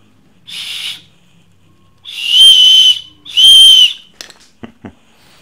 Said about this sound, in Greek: Ακόμα έχει και σφυρίχτρα κινδύνου.